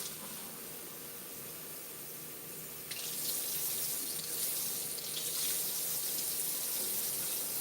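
Tap water runs steadily into a cup while measuring water for pancake batter, a continuous hiss that grows louder and brighter partway through as the flow increases, with no talking.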